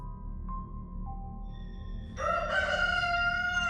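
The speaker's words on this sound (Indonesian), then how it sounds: "ayam baru aja tuh berkokok. Baru kukuruyuk." A rooster crows once in a village at morning, a clear nearby cock-a-doodle-doo rising sharply after a faint tonal lead-in, heard alone without speech.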